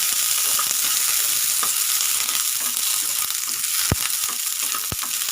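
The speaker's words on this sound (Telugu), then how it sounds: "ఇవి బాగా వేగుతున్నాయి" Green chillies sizzle steadily in hot oil in a pan, a continuous crackling hiss punctuated by a couple of sharp clanks from a spatula or ladle.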